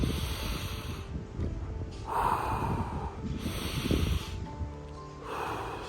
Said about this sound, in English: Breathe with me